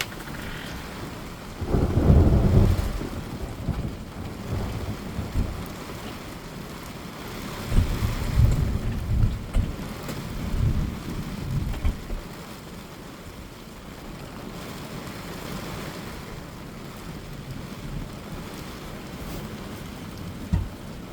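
Steady rain falls outdoors with a constant wash of droplets, while deep rumbles of thunder roll in near the start and again midway, loud and then fading into the ongoing downpour.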